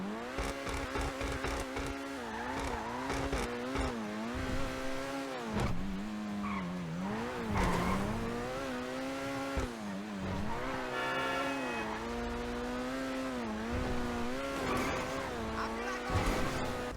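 Cheval Taipan supercar in GTA Online, its engine revving steadily with rising and falling pitch and tires squealing through hard driving, loud and close throughout with no talk.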